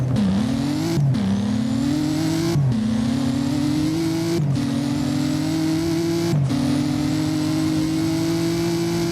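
A TVR Speed 12 accelerating in the Driving Empire video game climbs steadily in pitch through repeated gear shifts, each marked by a brief break and a fresh rise, loud and continuous.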